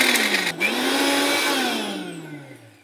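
A mixer grinder briefly pulses edible gum (dink), its loud whirring motor spinning up, dipping once, then winding down and fading out over a few seconds.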